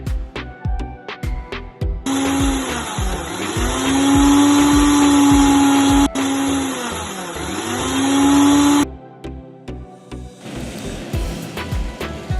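A mixer grinder whirs loudly for several seconds, its motor pitch dipping and rising as it blends a smooth paste without water, with clunks and knocks before and after.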